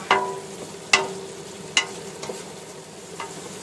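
Seasoning stirred into ground beef frying in a pan: a few sharp spoon scrapes against the pan, spaced about a second apart, over a soft background sizzle.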